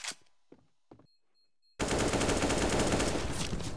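Close-range shotgun blasts in the game CS:GO burst in suddenly as a loud, continuous barrage of gunfire after a few faint, sparse clicks and taps in near silence.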